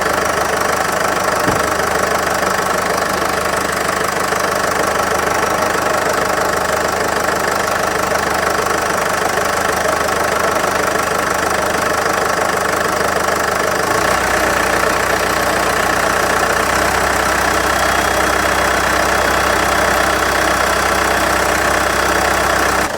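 A high-mileage Sprinter van engine idles loudly and continuously, a dense knocking rumble with a low hum that shifts slightly in tone partway through and again later.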